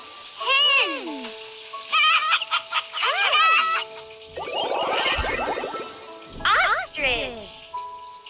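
Loud, close hen clucking comes in a run of short squawks and cackles with brief gaps between bursts and a rapid cackling flurry in the middle.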